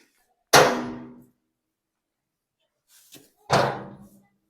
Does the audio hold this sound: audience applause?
no